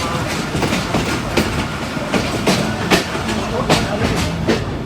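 The Chenab Express passenger train runs steadily, heard from on board, with a continuous loud rumble and rhythmic clickety-clack of the wheels on the rail joints.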